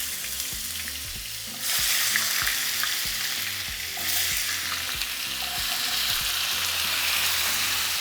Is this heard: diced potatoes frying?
yes